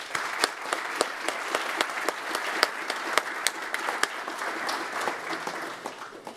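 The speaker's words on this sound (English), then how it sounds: "So I want to give you guys a round of applause." Audience applause at a Brevard County Fire Rescue graduation ceremony: many hands clapping in a sustained ragged patter with sharp individual claps standing out, fairly close.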